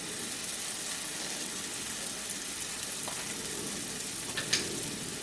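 Spices with turmeric and salt fry in a pan for a poppy seed and bottle gourd curry, a soft, even sizzle running steadily with a couple of faint scrapes of stirring near the end.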